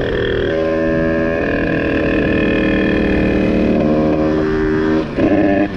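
A Beta 70 WR motorcycle, not yet finished, with no front brake and a 12-tooth sprocket, runs its engine in a steady, loud, buzzing drone, with a brief dip and rise near the end.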